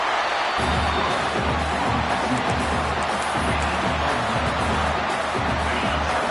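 Stadium crowd in the college football video game NCAA 26 during a Missouri State at Wisconsin game, a loud continuous roar filling the space, steady without break, with a low pulsing rumble beneath.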